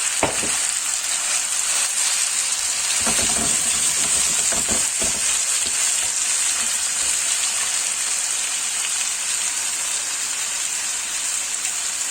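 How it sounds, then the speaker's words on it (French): Chicken frying in hot oil in a wok for bo bun, a steady loud sizzle running throughout, with a few clattering stirs and pops early on and no talk over it. "سخنين الزيت مزيان غادي نبداو نطيبوه"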